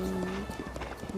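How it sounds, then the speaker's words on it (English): In Zelda: Breath of the Wild, a horse's hooves clip-clop in a quick galloping rhythm, fairly faint beneath a speaking voice. "My horse is running."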